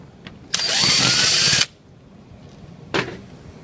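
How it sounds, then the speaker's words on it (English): A power drill backs out screws from the corner pivot of a casement window crank during a retrofit, with one sustained whir of about a second and a brief second burst shortly after, close and loud with no talking. "You're going to remove those 3 screws."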